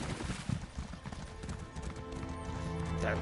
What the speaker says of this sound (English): I could just drive my horse through here